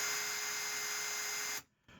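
A Ryobi cordless drill powered by a Kunlun 18V battery whines steadily at full speed, then is released, with a brief pause before it spins up again.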